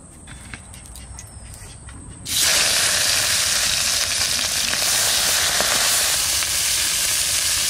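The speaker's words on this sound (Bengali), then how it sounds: "এদিকে কড়াই গরম হয়ে গেছে, সরষের তেল দিয়ে দেবো" Small fish, including tangra, rohu and mourala, drop into hot mustard oil in a wok. After a quiet start with faint background sounds, a loud, sustained sizzle and hiss bursts in and continues steadily.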